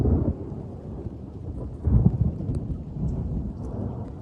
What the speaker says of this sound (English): Here at the farm, it's raining, some crazy lightning.